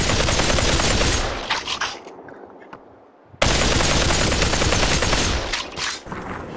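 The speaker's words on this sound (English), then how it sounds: "Someone else is shooting." Rapid automatic gunfire in the VR shooter Population: One, loud dense bursts that briefly cut out near the middle before resuming hard, with no talking.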